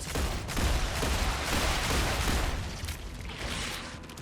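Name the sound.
gunfire in video game StarRupture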